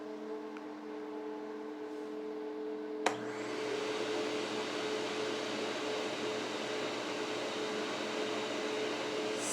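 A new DeWalt shop vacuum switches on about three seconds in and then runs with a steady, even whooshing drone, close by and alone, after a quiet hum.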